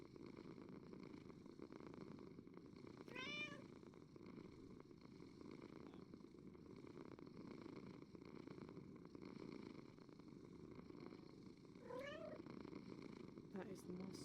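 A cat in a video game purrs steadily in a low, continuous rumble throughout, close and soft, with a couple of brief high chirps over it and quiet talk in the background.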